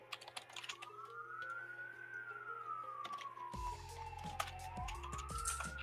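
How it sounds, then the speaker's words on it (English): Police car sirens wail in a slow rising and falling tone over a steady background, with a low engine-like drone joining partway through and clicking sounds scattered throughout. "Those are police cars."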